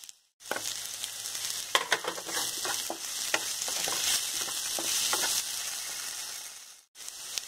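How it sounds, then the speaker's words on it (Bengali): Onion and potato pieces fry and sizzle in a pan of hot oil, a steady bright crackle with occasional stirring scrapes, close up and alone, cutting off abruptly near the end. "পেঁয়াজ হালকা লাল করে ভেজে ওর মধ্যে আমি আলু দিয়ে দিয়েছি"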